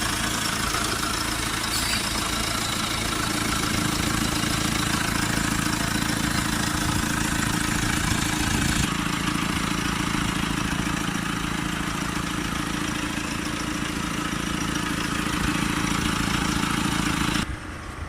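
A diesel engine with a faulty differential pressure sensor, during a forced particulate filter regeneration, runs steadily at close range, a continuous loud rumble with a slight rise in pitch as it is revved, then drops off at the end.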